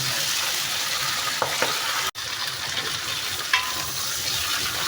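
Shrimp fry in garlic butter in a pan, giving a steady, loud, dense sizzle that runs the whole time, with a few clinks from stirring and a brief drop near the middle.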